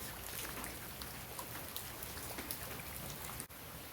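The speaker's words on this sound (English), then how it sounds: "Come on, rain, stop." Steady heavy rain during flooding in Suriname, pattering on surfaces, a dense even hiss with scattered drop taps, no voices.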